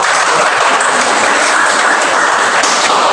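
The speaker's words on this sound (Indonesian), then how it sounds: "tepuk tangan untuk kelompok" A group of teachers in a classroom applauds a presenting group, a dense, steady wash of clapping at full loudness throughout with no talk.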